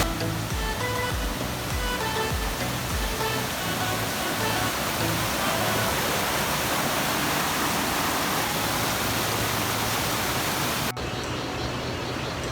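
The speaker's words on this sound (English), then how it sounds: "That's real wild waterfall, huh?" Wild waterfall on the Chembra estate in Wayanad during drizzle, a loud, steady roar of rushing, crashing water filling the scene from close by, unbroken for the whole stretch.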